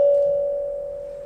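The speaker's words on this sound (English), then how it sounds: "The bell should make a sound like this." A single notification bell sound effect rings out as one clear, sustained ding that slowly fades over about a second, alone with no talking.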